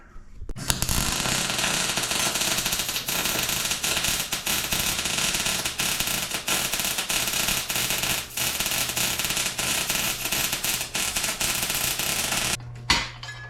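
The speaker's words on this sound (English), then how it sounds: "I'm going to weld it solid on this side completely" A welder lays a bead on the motor mount of a 1979 Pontiac Firebird, giving a continuous loud crackling buzz for about twelve seconds before stopping abruptly.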